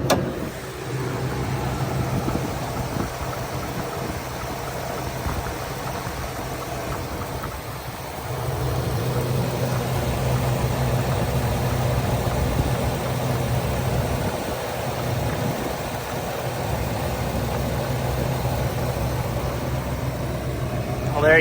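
A 2003 Ford F-350 box truck with a 6.8 liter V10 idles smoothly with a steady low hum, nearby and even, shifting slightly in tone partway through as background noise rises.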